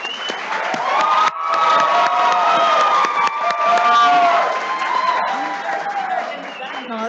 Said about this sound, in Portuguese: Torcida.